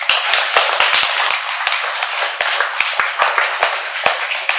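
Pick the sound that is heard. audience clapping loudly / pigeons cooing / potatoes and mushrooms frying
audience clapping loudly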